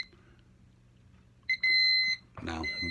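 A Thermco ACC895WRFT wireless temperature sensor monitor sounds its alarm, a steady high electronic tone after a short blip, followed by a burst of broadband noise and faint background murmur.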